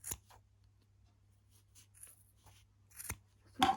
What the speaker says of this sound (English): now I'm gonna cut this